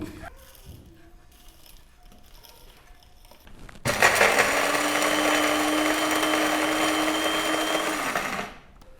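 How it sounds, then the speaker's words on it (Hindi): An electric grinder whirs steadily for about five seconds as it turns dry-roasted spices into powder for a chicken malai boti marinade, starting abruptly after a quiet stretch and cutting off at the end. "मसाले को हमने अच्छी तरह से ग्राइंड कर लिया है"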